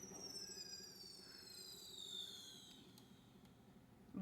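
A firework in the Garry's Mod video game gives off faint, steadily descending whistling tones with a few soft crackles, ending in a sharper burst at the close.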